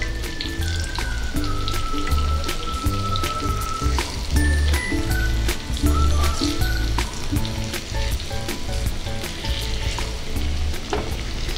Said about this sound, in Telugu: స్టవ్ లో మీడియం ఫ్లేమ్లో పెట్టుకొని ఫ్రై చేసుకోవాలి